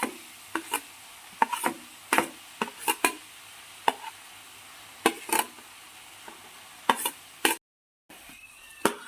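Ginger, garlic and green chilies stirred in a pan for egg curry, sharp spoon scrapes and knocks in an irregular rhythm over a quiet background, close and fairly loud.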